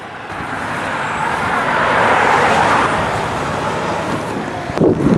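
A truck turning around on a road near a police DUI checkpoint, a steady broadband roadway rumble swelling through the middle with a brief louder burst at the end, no talking.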